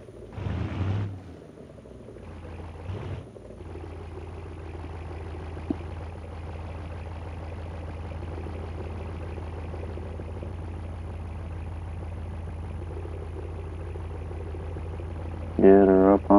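A truck engine idles with a steady low rumble as it backs onto a scale, continuous and moderately close, with brief voices at the start and a short burst of talk near the end.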